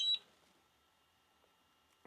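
A DJI Avata 2 FPV drone powering on gives a short, faint high electronic beep, then near-silence, then a louder burst at the very end, close by with no voices.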